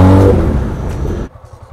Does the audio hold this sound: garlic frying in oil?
no